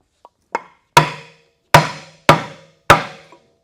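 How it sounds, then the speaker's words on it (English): A hammer strikes a wood block held against a cast metal engine part, giving six sharp thuds that start with two light taps and build to four heavy, evenly spaced blows, each ringing briefly. "I'm going to use this hammer, but also this block of wood, and that's going to give a much firmer strike"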